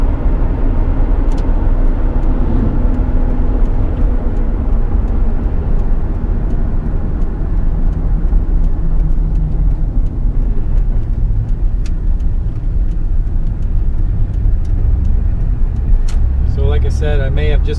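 Extended-cab Chevrolet Silverado pickup with a five-speed NV3500 manual transmission and remote shifter, heard from inside as a steady loud engine and road drone throughout, with a brief rattling burst near the end.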